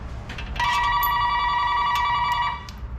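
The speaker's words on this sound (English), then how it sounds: "phone's ringing again" A telephone rings in a car repair shop, its electronic bell tone sounding steadily for about two seconds, loud and close over background shop noise.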